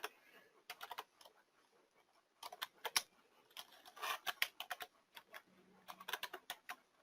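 Fingers type on a computer keyboard in quick irregular bursts of close, crisp key clicks, with short pauses between flurries and no voices.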